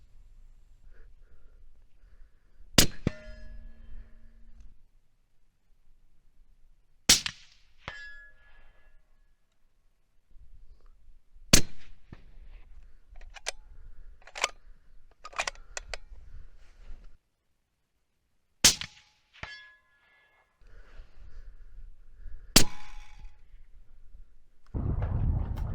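Suppressed rifle shots fired through a Nosler SR suppressor, 30 caliber: about six sharp, isolated cracks spaced several seconds apart, each with a short ringing tail, over quiet outdoor background with faint rustling.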